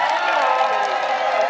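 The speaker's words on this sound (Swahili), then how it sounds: "Wapi makofi ya huyu mrembo basi?" Crowd applause and cheering at a public gathering or fundraising event, a steady dense clatter of clapping with scattered shouts, loud and continuous throughout.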